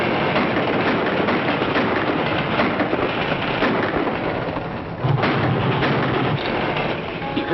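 A loud, continuous rumbling roar like a heavy train rolling past on the tracks, steady throughout with a brief dip and surge midway.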